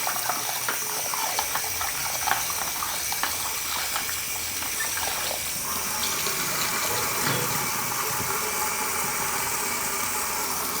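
Korameenu fish pieces being washed clean under a running tap after rubbing with turmeric and salt, a steady hiss of flowing water with splashes, no voices.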